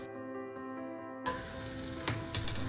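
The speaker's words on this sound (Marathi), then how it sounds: "आता हे सर्व मोठ्या गॅसवरतीच आपण डावलने हलवून घ्यायचं आहे," Chopped tomato and spices fry over high heat for a dal tempering while a ladle stirs them, a quiet steady tone giving way to a close sizzle with scraping knocks near the end, no speech.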